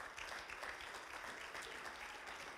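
A church congregation at a Wednesday night worship service claps together in praise, a dense, continuous wash of hand clapping heard from some distance, faint and even throughout.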